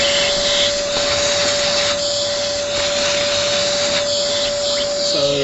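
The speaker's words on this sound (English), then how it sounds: "I'm just going to hit it with the vacuum cleaner" A vacuum cleaner sucks up aluminium chips from a freshly milled cut, with a loud, steady whining roar, a constant high tone throughout and faint rattles of chips being pulled in.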